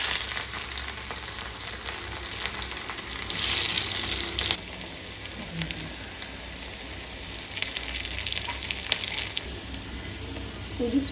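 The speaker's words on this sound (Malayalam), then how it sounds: "ചെറിയുള്ളി കൊടുക്കാം." Small onions sizzle and crackle steadily in hot oil in a home kitchen, with a louder burst of frying around the middle and occasional stirring noises; no one speaks.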